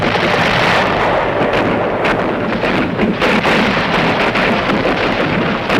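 Archival Vietnam War recording of heavy artillery bombardment around Khe Sanh: a dense, unbroken roar of distant blasts and rumbling, loud throughout with repeated bursts and no clear gaps.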